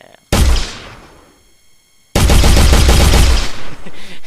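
Gunfire in an Unreal Engine 4 game test, fired at targets: one loud sharp blast with a fading tail, then after a short gap a longer sustained burst of shots, close and harsh.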